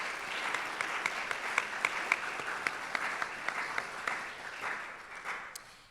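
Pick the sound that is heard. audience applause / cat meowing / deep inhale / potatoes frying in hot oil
audience applause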